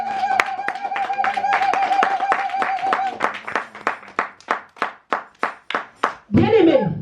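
A church congregation claps along at first in a fast, dense patter over a sustained tone, then falls into slower, separate, evenly spaced claps before a voice rises at the end.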